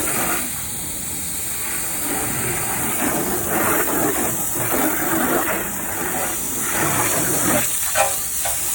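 Water hoses soap off a car during a wash, making a steady, close, continuous spray hiss that rises and falls slightly as the stream moves across the body, with no talk.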